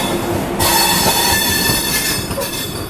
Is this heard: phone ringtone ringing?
no